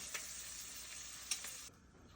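Shrimp seasoned with salt, smoked paprika and black pepper sizzle steadily in a hot pan, a bright hiss with a few louder pops and crackles, close and alone, cutting to a quieter tail near the end.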